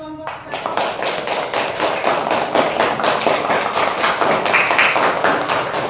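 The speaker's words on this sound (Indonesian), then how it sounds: "kasih tepuk tangan buat kelompok satu" A group of students or teachers in a classroom session claps for a presenting group, dense continuous hand clapping with scattered sharper taps, loud and close throughout.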